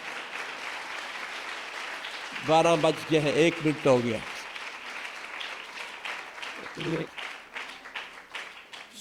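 Congregation at a New Year sermon in a church claps in a steady, sustained wash of applause, with a preacher's voice speaking over the clapping.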